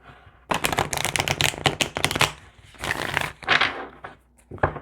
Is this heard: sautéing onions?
no